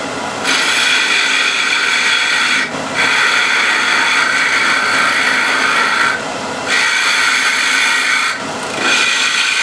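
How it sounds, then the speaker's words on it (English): A squaring scraper shapes a curve in a wooden workpiece, loud rasping strokes repeated in long sustained passes with brief pauses between them, close up and with no talk. "Using a squaring scraper, I'm going to make that curve."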